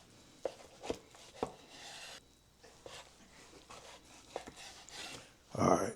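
A knife cutting through smoked pork ribs from a charcoal kettle grill, several sharp separate cuts and thuds against a board with soft rubbing in between, ending in a louder crunchy scrape; quiet and close.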